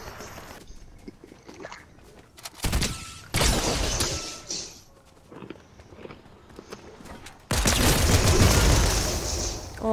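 Burst rifles fire in a video game, loud crackling volleys in a couple of sustained bursts, separated by quieter stretches of footsteps and game ambience.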